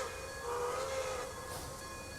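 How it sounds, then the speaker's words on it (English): A steam excursion train departs in the video game Transport Fever 2, giving a steady rolling rumble with a long, clear whistle tone that rises then holds near the start, alone at moderate level. "And the steam excursion is off once again"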